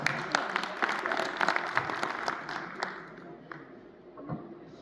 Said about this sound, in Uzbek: Tursunoy singlimizga bitta qarsak.